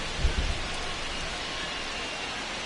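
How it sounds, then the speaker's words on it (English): Steady rain in the baseball game MLB The Show 25, a constant broadband hiss with a faint low rumble at the start. "It feels like we might be headed towards a rain delay if the weather doesn't ease up, Chris."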